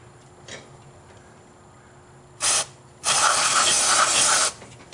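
Carb cleaner sprays onto the throttle body of a warm Vortec 4.3L V6 engine: a short hissing burst, then a longer steady aerosol hiss of about a second and a half, close and loud over a quiet background.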